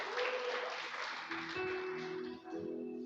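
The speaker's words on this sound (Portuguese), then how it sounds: "Vamos aplaudir ao Senhor" A church congregation claps together in sustained, fairly faint applause that holds steady for a few seconds with a slight dip near the end, and no voices stand out above it.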